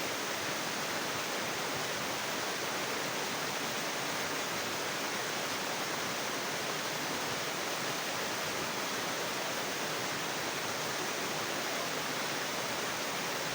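A waterfall and a bamboo spout pour into a river, making a steady, dense rushing hiss that stays continuous and unchanging throughout, with no voices.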